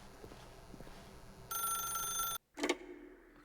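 In The Stanley Parable, a telephone bell rings in one short, bright burst over a quiet room-tone hum. A brief cutoff follows, then a soft knock-like clunk.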